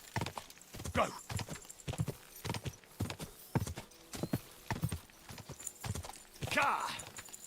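A horse's hooves clop in a steady, evenly spaced rhythm in Kingdom Come: Deliverance II, with a whinny near the end, while a player talks excitedly over the game sounds.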